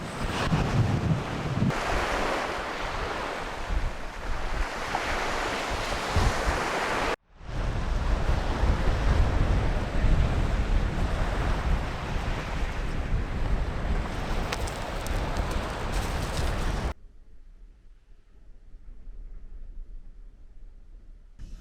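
Strong wind buffets the microphone with a constant roar over crashing ocean surf on the Kintyre coast of Scotland, cutting briefly midway, then dropping to a quieter rumble near the end.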